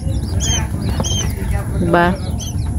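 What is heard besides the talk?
quail chicks chirping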